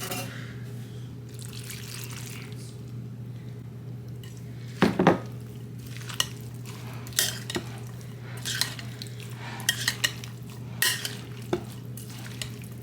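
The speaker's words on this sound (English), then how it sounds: "I whisked it together and I'm gonna go ahead and add it to the bean salad." Whisked dressing is stirred into a bowl of bean salad. A utensil scrapes and clinks against the bowl in a quiet, irregular rhythm of soft stirring and sharp taps, over a low background hum.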